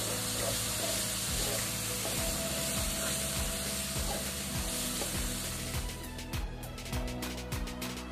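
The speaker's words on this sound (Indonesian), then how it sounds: "Kalau sudah tanak seperti ini, kita masukkan 1 butir telur. Kemudian kita orak-arik." An egg scrambled in a frying pan with spices for seblak mie goreng: a steady, close sizzle with repeated scraping stirs of the spatula, no talking.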